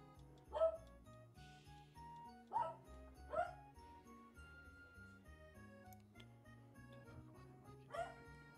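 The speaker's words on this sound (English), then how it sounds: "My dog's barking and playing in the background." A dog barks and yips playfully in a room, the short barks coming in a loose scattered rhythm and sounding faint and somewhat distant beneath steady looping video-game music.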